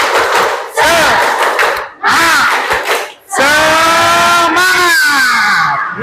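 A class of teachers in a university training session performing a rhythmic motivational clap chant, with loud unison group shouts arriving in several strong bursts separated by short pauses.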